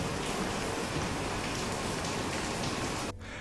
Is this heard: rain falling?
yes